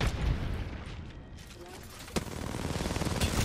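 Gunfire in the video game Apex Legends: a fast automatic burst rattles at the start, a lull follows, then a sharp crack and another rapid string of shots, with voices talking over the action.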